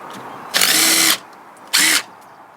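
Air impact gun on bolts of a Land Rover Freelander 2 rear differential: two loud, close bursts of whirring hammering, the first about half a second long and the second shorter, separated by a quiet pause.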